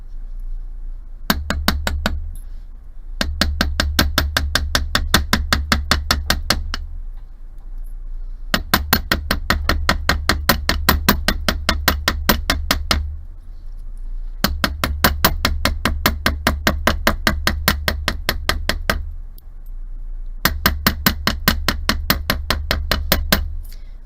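Metal tablet earring edges are struck with a small hammer in rapid, regular bursts of close, sharp taps, separated by brief pauses between runs.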